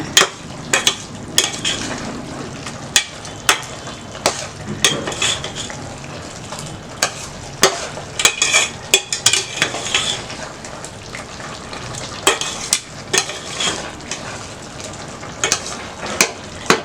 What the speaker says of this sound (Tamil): இது போட்டு நல்லா கலக்கிடுங்க.